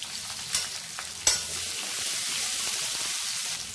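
Loud, steady sizzling of chopped shallots frying in hot oil, with a couple of sharp clanks of a spoon stirring early on.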